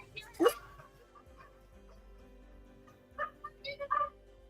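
A dog barks sharply once, then whimpers and yips in short bursts, coming from a video played back on a phone and heard under quiet background noise.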